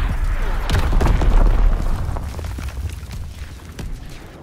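Enemy mortar fire in Call of Duty WW2, with heavy booming blasts landing close and rolling together into a loud rumble, followed by sharper cracks as the barrage fades.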